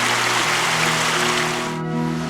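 Spring water flows steadily along a small stream in the woods, a continuous close rush and trickle, with a brief low tonal hum running underneath.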